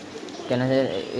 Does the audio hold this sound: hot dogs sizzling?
no